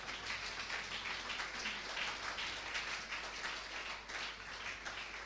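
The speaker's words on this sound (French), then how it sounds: "Acclame très fort le roi des rois." Church congregation applauding and cheering during a worship service, a dense, steady wash of clapping and voices that holds at an even level for several seconds with no break.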